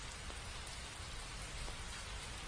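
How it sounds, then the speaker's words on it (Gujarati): Steady rain showers fall over Amreli in Gujarat, a continuous broadband hiss of drops on surfaces that stays even and close throughout, with no voices. "સતત ત્રણ દિવસથી અહીં વરસાદ વરસી રહ્યો છે"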